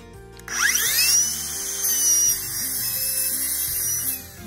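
Power saw cutting a wooden fence picket board at a bevel for a birdhouse: a high whining motor spins up and bites into the wood in one steady, close, loud cut lasting several seconds.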